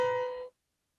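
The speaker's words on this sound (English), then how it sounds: "the crunchiest interval, for lack of a better term, would be the root in the major seventh" A keyboard sounds a root and major seventh together, a single bright, sustained two-note interval that rings steadily for about half a second before cutting off abruptly.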